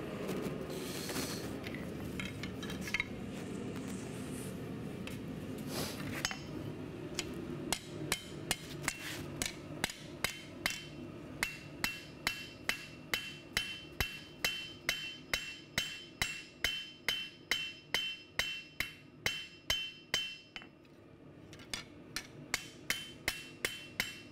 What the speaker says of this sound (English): when you're forging any kind of culinary knife, they're thinner, finer, so you forge them a little thicker